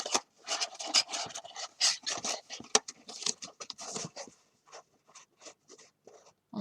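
Wrapping paper rustles and creases in close, quiet bursts as it is folded in around a wine bottle, with a few soft taps near the end.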